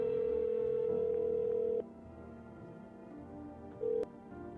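A video game telephone gives a steady electronic tone that cuts off, followed by a quieter hum and a short second beep, then a sharp click.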